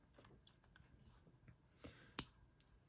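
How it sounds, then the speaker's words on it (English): A single sharp metallic click comes as the pivot of a Hogue Deka Gen 2 pocketknife passes through the washer and blade, preceded by faint fiddling and small tapping noises close up. "You're going to hear a third click shortly."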